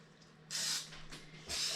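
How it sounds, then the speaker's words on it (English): Cooking spray hisses into a mug in two short, close bursts, each a sharp airy spritz lasting under half a second, separated by a quiet pause with faint clinking. "All right, I'm spraying my mug."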